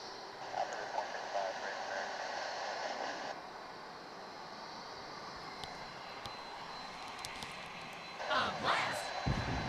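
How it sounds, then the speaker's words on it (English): A UPS cargo plane, just landed from Houston, moves past at Dallas/Fort Worth International Airport, a moderate steady engine hum with higher whine, easing briefly midway and swelling again near the end. "here comes the UPS flight that landed a short time ago from Houston."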